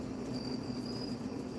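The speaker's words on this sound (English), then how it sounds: "Right now, that sound you hear is air conditioning." Air conditioning hums steadily and quietly indoors, a constant low drone with a faint high whine, no speech.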